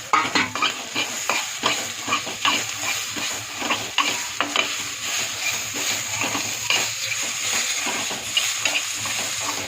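Softened onion with tomato and cashew paste fries in a pan for a hotel-style veg Kolhapuri, a steady close sizzle broken by repeated scraping stirs of a spoon against the metal, with no voices.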